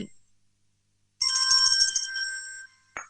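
A telephone rings in a single electronic burst, loud and close, as a caller phones in to a Thai Buddhist radio dharma program; silence precedes it and a short voice fragment follows.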